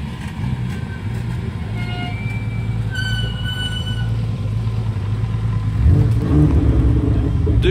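BMW M2 Competition and an older BMW M3 idle and roll past at a car event, a steady low engine rumble with a rise in engine noise near the end, as a faint voice speaks beneath it.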